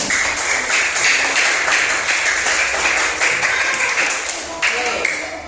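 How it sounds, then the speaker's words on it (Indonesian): Classroom applause for a student named Azhar during a teaching practice session, a steady patter of hand claps filling the room at close range, with classmates' voices mixed in. "Tepuk tangan dulu buat Azhar"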